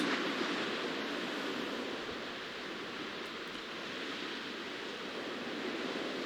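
River rapids at Castle Rock at about 4,000 CFS make a steady, broad rush of churning whitewater during a rafting run. The roar is continuous and fairly faint, with no talk.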